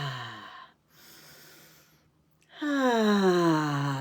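Breath sounds during a guided breathing exercise, a soft airy release followed after a pause by a louder, longer exhale with a voiced, sighing quality, close and unaccompanied by speech.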